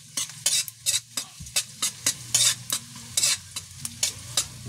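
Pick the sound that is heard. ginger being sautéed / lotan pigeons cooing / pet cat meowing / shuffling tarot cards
ginger being sautéed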